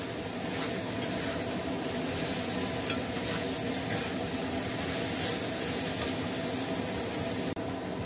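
Vegetables sauté in a pan for a vegetarian dish, a dense, even sizzle and hiss with soft stirring throughout, close and steady, ending in a brief sharp knock.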